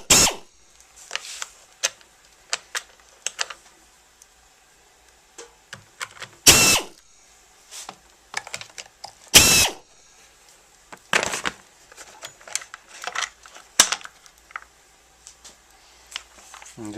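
A cover comes off a Husqvarna Jonsered chainsaw in a run of close plastic clicks, scrapes and short whirring bursts, which come in irregular clusters with quiet pauses between them and no talk.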